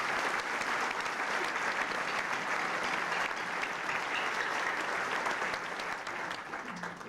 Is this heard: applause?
yes